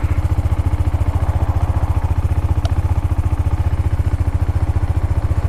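A Husqvarna Svartpilen 401 motorcycle idles close by, its single-cylinder engine thumping in a steady, even, rapid rhythm, loud and alone with no talk.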